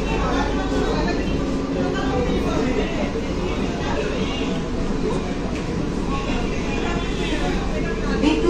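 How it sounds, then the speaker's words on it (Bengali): EMU fast AC local train running nonstop between Kanchrapara and Naihati Junction, heard from inside as a continuous low rumble and rattle of the carriage with passengers chattering in the background. "আমাদের ট্রেন ছেড়ে দিল কাঁচরাপাড়া থেকে।"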